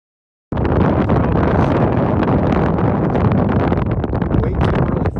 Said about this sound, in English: Way too early for wind, but I guess it's because I'm on the ridge